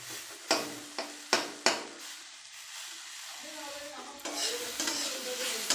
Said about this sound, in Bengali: উচ্ছেটা মোটামুটি ভাজা হয়ে গেছে